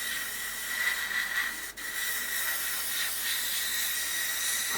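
A faint, steady airbrush hiss carries light paint onto the rear intake part of a Tamiya 1/32 F-16CJ model kit, continuous throughout with a brief dip midway.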